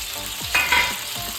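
Tomato, radish, pumpkin, curry leaves and drumsticks are stirred into browned onions frying for rasam, giving a loud close sizzle with a couple of quick scraping stirs.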